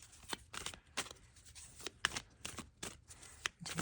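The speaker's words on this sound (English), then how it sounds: "So I'm just going to shuffle while I think of my question" Tarot cards are shuffled by hand in quick, crisp bursts of riffling and sliding, close and fairly quiet, repeating several times with brief gaps between.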